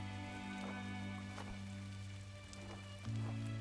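Rain falls on unseen leaves in the video game GRIS, a soft steady patter over a low sustained musical drone, with a few brighter drops standing out; no voices.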